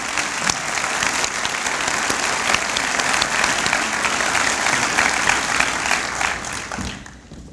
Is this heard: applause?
yes